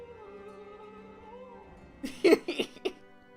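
A low hum gives way to a person imitating a cat-like warbling yowl in a few quick, loud bursts.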